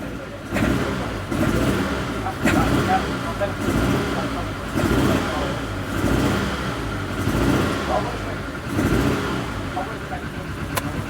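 A neglected Proton car, found in a garage, has its engine revved repeatedly in close, rising and falling surges over a steady idle, heard from inside the cramped car with someone talking over it.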